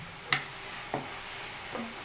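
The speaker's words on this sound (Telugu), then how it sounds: "మీడియం ఫ్లేమ్లో పెట్టి వేయించుకుంటూ ఉండాలి." Sliced onions and ground dried red chillies fry softly in a pan over medium flame, with three separate spatula scrapes and stirs over a faint, quiet sizzle.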